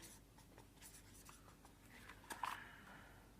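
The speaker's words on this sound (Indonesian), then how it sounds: "dia menulis setiap kata dalam sebuah kertas" Pen or pencil writing words on paper, soft scratchy strokes in quick irregular bursts, close and quiet, with one slightly louder scrape near the end and no voices.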